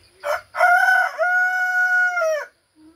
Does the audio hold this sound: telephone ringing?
no